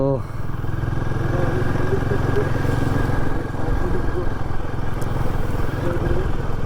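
A Royal Enfield Himalayan 450 motorcycle rides off-road on a rural route near Belpahari, Jhargram, its engine a steady, loud, continuous drone with rough clatter and wind rush throughout.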